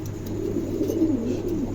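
A male light silver adult pigeon coos softly nearby, a low rolling throaty call repeated in a short burst over faint background noise.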